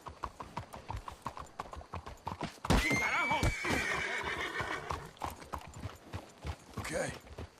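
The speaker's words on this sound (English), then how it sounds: "Let's hitch the horses up ahead." Horses clip-clop along and let out a loud whinny in the Red Dead Redemption 2 video game, the hoofbeats steady throughout with the neigh rising in the middle.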